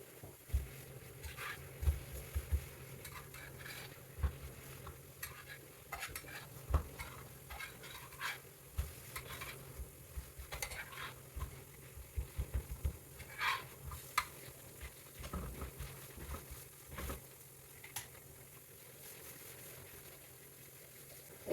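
Ripe banana slices frying in a pan while being flipped, a steady soft sizzle with scattered scraping and light clinks from the utensil, close and moderately quiet.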